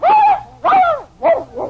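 A dog barks close and loud in four quick yelps, the last ones shorter and whinier, with no talking over them.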